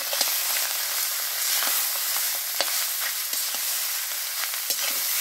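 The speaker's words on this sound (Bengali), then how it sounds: "ডিমের মধ্যে আমি চাউমিনটা ঢেলে দেব" Egg chowmein noodles frying in a pan, a continuous sizzle broken by repeated scraping and tapping from stirring, close and without talking.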